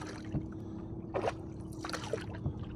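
A small boat is rowed at night on anchovy fishing grounds because its engine won't start. Paddle strokes splash into the water in several soft, uneven dips over a low steady hum.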